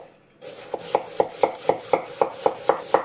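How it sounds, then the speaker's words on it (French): A knife slicing through a large onion on a board, about ten crisp, regular cuts in quick rhythm, close and clear with no talking. "On a émincé l'oignon."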